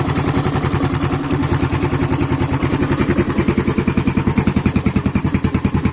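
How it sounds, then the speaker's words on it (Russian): An Irbis TTR 250 motorcycle engine idles close up after a piston and cylinder replacement, giving a steady, even, rapid putter with regular firing pulses that sharpen slightly toward the end, with no talk over it. "Двигатель шепчет."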